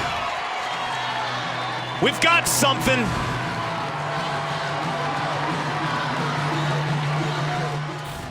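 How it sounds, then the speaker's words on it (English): A sellout crowd at a Notre Dame vs Duke men's college lacrosse game roars after a tying goal, a broad continuous crowd din with brief sharp whistle-like bursts, under a commentator's voice. "Sellout crowd."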